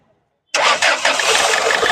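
A Ford Figo with misfiring, hard-starting injector trouble cranks and catches after a short silence, then settles into a loud, steady idle up close.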